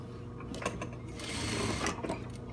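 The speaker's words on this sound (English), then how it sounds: "And then you're gonna sew them together." A sewing machine runs in a quick, close burst of rapid needle clatter, sewing dress shoulder pieces together, with no talking over it.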